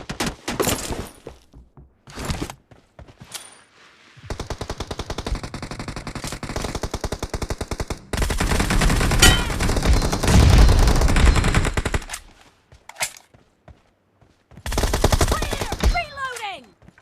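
Bursts of video game gunfire: sustained automatic fire alternating with short volleys and brief silent gaps, loud and close, with a jangling, shattering edge in places.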